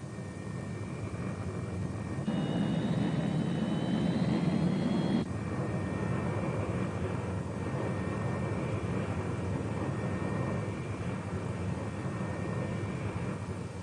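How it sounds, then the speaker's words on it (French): A Messerschmitt Me-262 jet aircraft, a museum example at Gosford, gives a steady, close engine roar with whining tones. It swells louder for a few seconds early on, then settles back to a constant drone, with no talking. "Ce magnifique ME-262 appartient au musée de Gosford."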